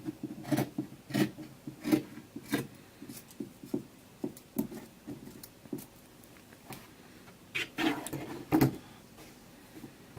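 Scissors snip through a T-shirt in a quiet room, a close, soft series of short crisp cuts spaced irregularly, with a louder cluster of snips near the end and no voices.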